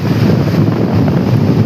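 Rough sea surf at Digha Mohana beach, driven higher by a low-pressure system, roars as a steady, loud wash with heavy wind buffeting the microphone and no voices.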